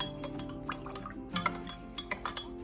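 Pizza dough mixture being stirred in a bowl: quick, light clinks and taps of a utensil against the bowl in an uneven rhythm, close up and fairly quiet, with no talking.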